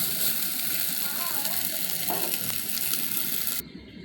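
Rice being stirred as it fries in a pan, a steady close sizzle with scraping stirs for several seconds before it cuts off abruptly.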